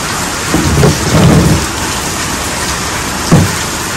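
Heavy rain pours steadily outdoors during a meal of cooked crocodile meat, with deep thunder rumbling twice, once long and rolling early on and again briefly near the end, and no voices.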